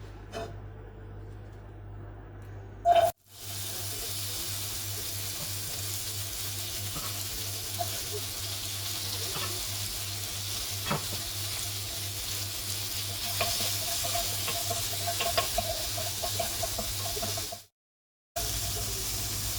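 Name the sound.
onion pan frying for chicken soup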